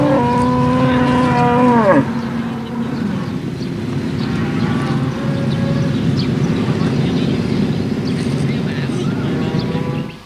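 Cattle on a tropical dairy farm in Thailand, one long, loud, close moo opening the scene before a steady hum of rural background, with a narrator speaking throughout.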